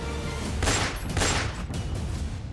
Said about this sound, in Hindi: अचानक महफिल में गोलियां तड़तड़ाने लगी।